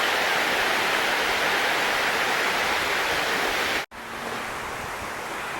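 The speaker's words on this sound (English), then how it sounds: "just watching the wind and the water" Steady rush of lake waves and wind at Wells State Park, Michigan, broad and constant, briefly cutting out before resuming slightly softer.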